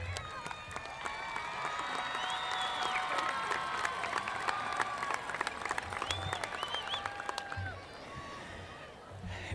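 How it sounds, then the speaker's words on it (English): Niceville High School graduation crowd applauding families, broad sustained clapping from a large audience with cheers and voices mixed in, easing off near the end. "try to make eye contact with your families, and applaud them to say thank you for what they've done for you"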